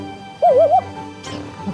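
A person gives a single short, wavering woof to imitate a dog bark, followed by a brief breathy sound in a quiet rural home.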